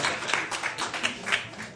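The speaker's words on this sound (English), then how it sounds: "Show them a round of applause" A brief burst of audience applause for volunteers at a community awards event in DC, fairly faint and distant, with scattered claps and a trace of voices.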